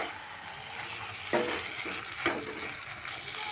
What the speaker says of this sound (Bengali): এটাকে দিয়েও আমি ভালো করে নেড়ে চেড়ে মিশিয়ে নেব